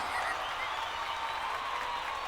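A podcast host claps for himself, though the sound comes through as a faint, even wash of clapping with no single claps standing out.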